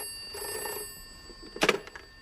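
A telephone bell rings in a quiet room late at night, giving one brief, bright burst of ringing over faint background hiss.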